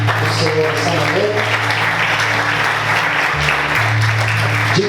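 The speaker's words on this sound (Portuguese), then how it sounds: "Vamos aplaudir o Senhor essa manhã." A church congregation at a Sunday morning service applauds in a sustained, broad wash of clapping, mixed with voices and a low hum of music underneath.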